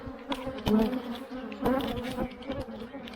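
Honey bees buzz around an open hive while a beekeeper works through the frames looking for the queen, a close, wavering drone with swelling bursts as insects pass near.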